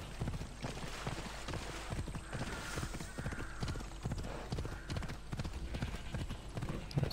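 Steady, rhythmic clip-clop of a horse's hooves as it is ridden along a road in the video game Assassin's Creed Odyssey, continuous and fairly close.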